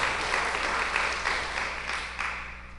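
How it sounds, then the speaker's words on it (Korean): A church congregation claps to give glory to God, a steady wash of many hands at moderate level that gradually tapers off. "하나님께 영광의 박수 드리겠습니다"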